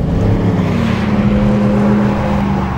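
A RAM 1500 pickup truck's engine revving hard, a loud, steady low drone that holds throughout with no talking.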